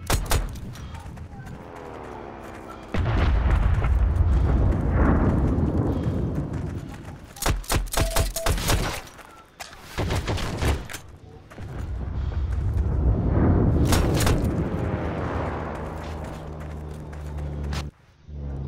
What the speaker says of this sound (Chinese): 我的运兵车就在被炸了。